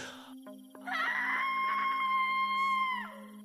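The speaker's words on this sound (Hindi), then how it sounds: "एक दर्दनाक चीख पूरे गांव में गूंज उठी" A dramatized scream in a Hindi horror animation set in a village near a graveyard: one long, high, wailing cry held for about two seconds over a steady droning background before cutting off.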